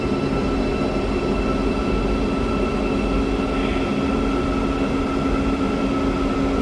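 Steady rumble of a Kuala Lumpur metro train in motion, heard from inside, with a constant electric whine and hum and no voices.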